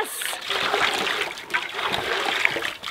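Sediment-laden well water from a hand pump at a remote off-grid property in Michigan's Upper Peninsula splashes and gushes in a continuous close-up spatter.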